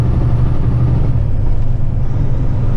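A heavily loaded Kenworth truck engine rumbles in a steady, loud low drone from inside the cab, holding its revs without clear breaks.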